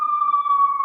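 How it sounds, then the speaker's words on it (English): An emergency alarm siren sounding outdoors holds a single loud, steady high-pitched tone with faint overtones for just under a second, with no voices. "that alarm siren's getting kind of loud."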